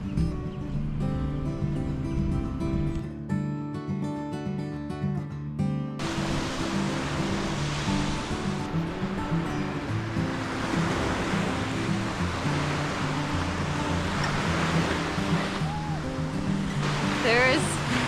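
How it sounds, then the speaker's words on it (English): Steady ocean surf washes onto a beach, a broad continuous rush of breaking waves, with music playing over it at first and voices mixed in. "when your feet first touch the sand and then the ocean water hits you"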